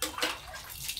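Water sloshing and splashing close by as laundry is rinsed by hand in a basin, a brief burst of wet churning with no talking.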